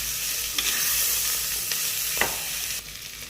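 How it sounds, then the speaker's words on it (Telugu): Tomatoes and onions frying in a pan for an Andhra-style dal pulusu, a loud, continuous hissing sizzle with a few brief utensil taps, and the sound dropping off slightly near the end. "నెక్స్ట్ టమాటాలు కూడా వేసుకొని ఆనియన్స్ లాగే ఒక 2 మినిట్స్ ఫ్రై చేసుకుంటే టేస్ట్ని బాగా ఎన్హాన్స్ చేస్తుంది."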